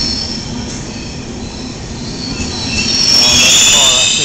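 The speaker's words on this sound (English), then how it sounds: "This is the train." A train arriving at a station in Lucca, Italy rumbles steadily, with high metallic wheel squeal growing louder and sharper toward the end as it slows.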